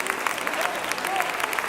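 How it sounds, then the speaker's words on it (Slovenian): An audience claps for young rock 'n' roll dancers at an awards ceremony, a brief run of rhythmic, fairly close clapping with a faint crowd murmur. "Dajmo prosim en velik lep aplavz za naše prve nocojšnje"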